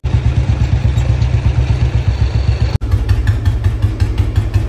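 A tractor engine running loudly and close, a steady low rumble with dense mechanical clatter that briefly cuts out before catching again.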